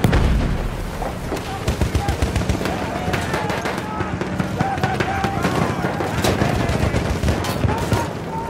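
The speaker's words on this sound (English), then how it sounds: "Enemy machine gun sighted!" Dense World War I battlefield gunfire from a Somme video game, with rapid rattling machine gun bursts and scattered booms running steadily throughout, shouting voices mixed into the constant din.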